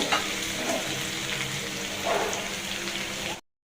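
Sautéed meat for khichuri sizzles loudly in the pot after a little water goes in, a continuous close frying hiss with faint stirring bumps, then the sound cuts off abruptly.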